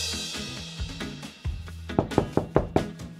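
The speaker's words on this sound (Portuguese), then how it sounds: "Tem alguém batendo na porta." Someone knocks on a door, about six crisp, evenly spaced raps in quick succession that follow a muffled low bump and background noise.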